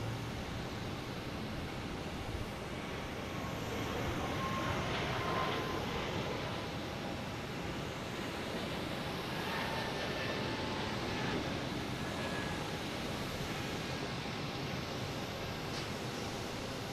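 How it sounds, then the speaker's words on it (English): A JetBlue airliner taking off from Boston Logan International Airport on a flight to Austin gives a steady, broad jet roar with a faint whine, holding at an even, moderate level throughout. "Next taking off is the JetBlue heading to Austin."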